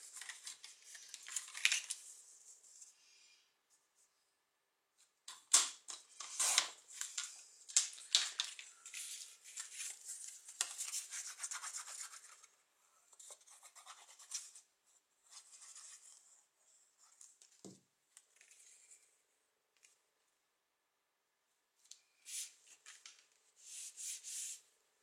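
Paper for a baby mini album being cut at a craft table, intermittent faint scraping and slicing strokes in short bursts with quiet pauses, close and soft.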